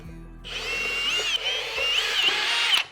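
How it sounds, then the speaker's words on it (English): A power drill bores a hole into a wooden board for a simple coat rack, a steady high whine starting after a brief pause and running near and loud for about two and a half seconds. "I am going to drill out"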